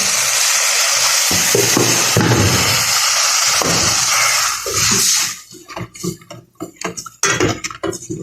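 Water pours and splashes into a hot pot for boiling semolina, a loud hissing rush that sizzles steadily for several seconds before breaking into uneven bubbling and clinking stirring sounds.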